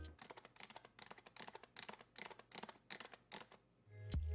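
Typing on an HHKB (Happy Hacking Keyboard) with Topre electrostatic capacitive switches, a dozen or so soft, muted keystrokes in a steady close-up rhythm, deep and quiet, ending in a low bump.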